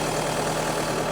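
A John Deere 5510 tractor engine idles steadily in four-wheel drive, a continuous low, even rumble held close and loud throughout with no talk.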